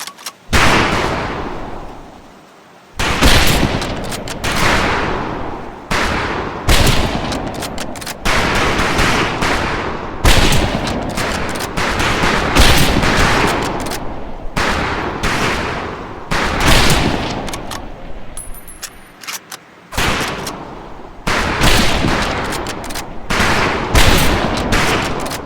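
Repeated rifle gunfire on a training-camp shooting range in Medal of Honor Pacific Assault, with loud, dense overlapping shots and bursts continuing throughout, broken by a couple of brief pauses.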